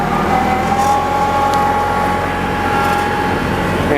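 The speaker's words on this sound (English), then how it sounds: "I gotta crank up my RPM" A car engine revving up on an icy, snowy road, a steady droning roar heard from inside the car, loud and continuous for several seconds.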